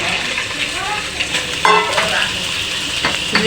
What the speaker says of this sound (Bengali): চিংড়ি মাছগুলি দিয়ে